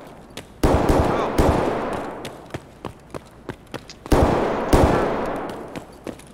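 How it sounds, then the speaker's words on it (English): Gunfire in the video game Escape from Tarkov, with loud close bursts and rapid shots echoing, interspersed with single sharp cracks and trailing reverb. "I hear gunshots."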